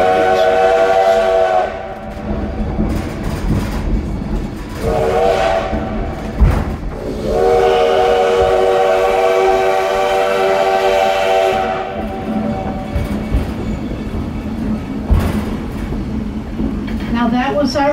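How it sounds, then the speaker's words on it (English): 1880 steam train in the Black Hills on the way to Keystone sounds its whistle in several long, loud blasts over the rumble and clatter of the rail cars, with gaps between blasts. "You'll get to hear that whistle another 19 times on your way to Keystone."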